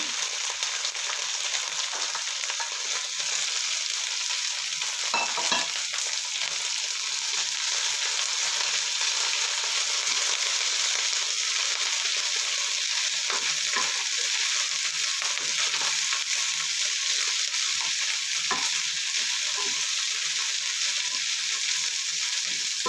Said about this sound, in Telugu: ఇలా బాగా వేగాలండి కొంచెం వేగిన తర్వాతనే మిక్స్ చేయాల్సి ఉంటుంది